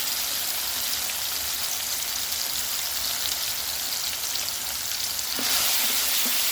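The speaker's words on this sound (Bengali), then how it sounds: "এখন আমরা মশলাটা দিয়ে দিচ্ছি ডিম ভুনা করার জন্য।" Eggs fry with spices for egg bhuna, a steady, close hiss of sizzling oil that grows a little louder near the end, with a few faint clinks from stirring and no voices.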